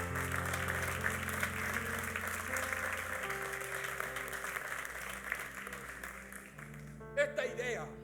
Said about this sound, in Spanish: ¿Te atreves a dar un aplauso al Señor?